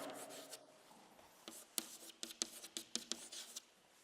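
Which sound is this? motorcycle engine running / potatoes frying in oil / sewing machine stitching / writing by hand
writing by hand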